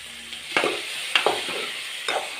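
Onion and curry leaves fry in hot oil with a soft, steady sizzle, broken by three distinct stirring scrapes of a spoon against the pan, close and alone.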